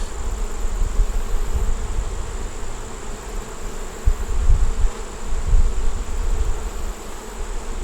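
Honey bees swarm around an open hive frame in a dense, continuous buzz, close and steady, with occasional louder low swells as bees pass near.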